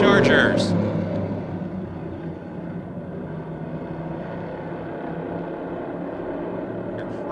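Race cars in a Chargers-class preliminary heat race at Motordrome Speedway, their engines a broad, distant roar that holds steady throughout while an announcer talks over it.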